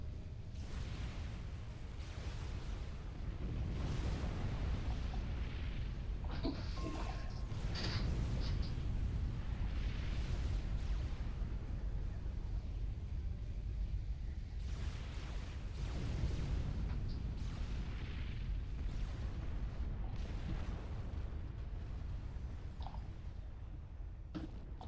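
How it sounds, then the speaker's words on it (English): Explosions in the real-time strategy game Supreme Commander rumble through in several heavy bursts, with low booming swells and crackling debris over a steady background roar. "What was that explosion?"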